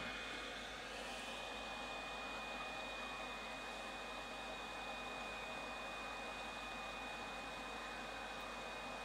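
A heat gun or hair dryer heats a part of a Dansette Tempo record player, blowing as a steady, continuous whooshing roar close by, with no talking.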